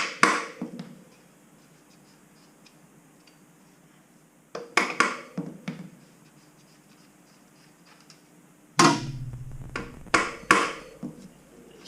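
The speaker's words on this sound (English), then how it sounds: "Just get a rubber mallet and give it a tap." A rubber mallet taps the front brake axle of a Suzuki RMZ250 dirt bike, giving a few short clustered knocks in three separate bursts with quiet gaps between them.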